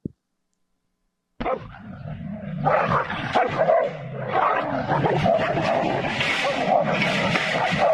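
Two dogs, one of them white, bark, snarl and yip as they fight, a dense loud scuffle that bursts in after a moment of near silence and keeps going to the end.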